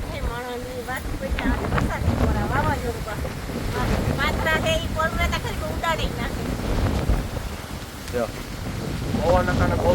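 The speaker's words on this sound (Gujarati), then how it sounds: "આમાં તમને ખરેખર થોડોક પવનનો અવાજ આવતો છે" Gusty storm wind buffets the microphone with a constant low roar while people talk over it throughout, outdoors on a farm.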